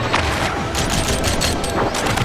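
Dense, loud gunfire from dual pistols in the roller-skating shooter Rollerdrome, a rapid continuous barrage of shots blended with booming game effects, no talking.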